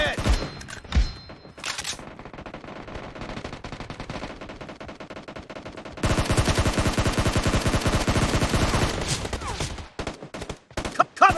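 Rapid automatic gunfire in the PUBG video game crackles in dense bursts, lighter at first and then a loud sustained stretch of shooting, ending in a few scattered shots.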